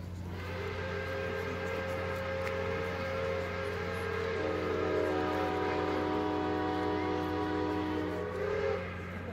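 Steam locomotive 1225 and a second steam engine sounding their whistles together on a Michigan excursion, a loud sustained chord of two whistle tones held for about nine seconds, with one pitch shifting midway.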